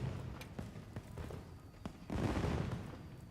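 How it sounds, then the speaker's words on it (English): Fireworks go off in the video game Monster Hunter Wilds, a string of sharp pops and cracks spaced unevenly, then a louder, fuller burst of crackling near the end. "Fireworks."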